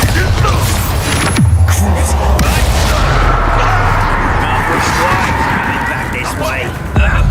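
A Bombarda spell explosion from the Hogwarts Legacy video game, a dense booming burst that fills the clip with loud rumbling blast noise, with a sharp hit near the start and another near the end, over the continuous game din.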